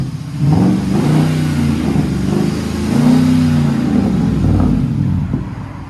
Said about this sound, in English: Ford F-150. That sounds so good.